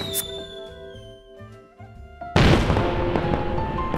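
Fireworks burst at night, a sudden loud crackling explosion breaking a quieter stretch and lingering as a dense fizzing, popping rumble.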